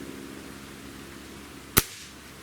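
A single sharp airgun shot fired through a Cattleman Guns covert moderator, a brief close crack with a short decay out of a quiet background.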